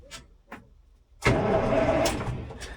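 A KrAZ 255 truck that sat idle for 20 years starts up: a couple of faint cranking clicks, then the engine catches and runs loud and close into a rough idle, with no voices.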